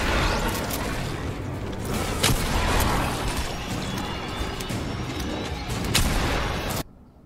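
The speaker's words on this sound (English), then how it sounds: "160. Headshots with a pistol." Pistol gunshots in the video game Shadow Ops, sounding as a dense, continuous run of loud, broadband game noise with sharp bursts from start to finish.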